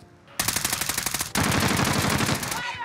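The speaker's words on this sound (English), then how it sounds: "You want me to shoot at any of them, Jay, or no?" Rapid automatic AK74u gunfire in the video game Warzone, a steady burst of evenly spaced shots that gives way to a denser, louder stream of fire, close and dominant with no talk.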